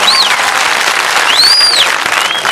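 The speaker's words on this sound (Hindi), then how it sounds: "जोरदार तालियां एक बार।" Loud, dense audience applause fills a comedy poetry gathering (kavi sammelan), a steady wash of clapping with faint whistles and cheers over it.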